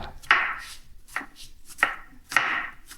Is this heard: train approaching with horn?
no